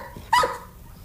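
A dog gives a single sharp bark on command, close and clear, with only quiet room noise around it.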